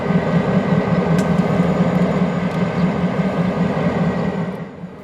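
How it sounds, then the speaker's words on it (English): KCS business train idling at the Huebner Depot, a steady low diesel rumble with a constant mechanical hum, loud and close, holding evenly before easing off slightly at the end. "the KCS business train was right on time and sitting at the Huebner Depot preparing to leave"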